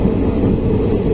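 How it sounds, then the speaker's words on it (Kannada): The Mysuru to Belagavi express, train number 17301, runs steadily with a loud continuous rumble and rattle of the rolling carriages, heard close up and alone. "ಬರ್ರಿ ಟ್ರೈನ್ ಫೈನಲಿ ಬೆಳಗಾವಿಗೆ ಎಂಟ್ರಿ ಆಯ್ತು."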